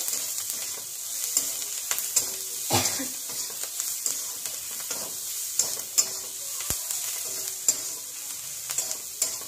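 Onions fry in a pan, a steady close sizzle broken by repeated stirring scrapes and occasional sharp clicks of a spoon against the pan.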